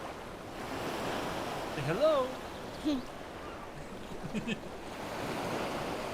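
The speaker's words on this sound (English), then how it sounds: "I can hear the ocean right now" Ocean surf rolls in as a steady, soft rush of breaking waves with some wind, continuing under a few brief bits of nearby talk.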